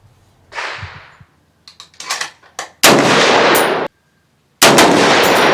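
A Smith & Wesson M&P 10 rifle fires Federal 180 grain soft point hunting ammunition: two loud, sharp shots about two seconds apart, each ringing out and decaying. Softer clicks and handling noises come first.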